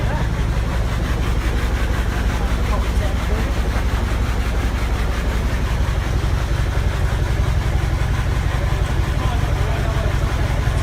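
A very large engine turns over slowly at about 350 RPM, giving a steady, loud, low rumble with an even pulsing beat that carries on unbroken throughout.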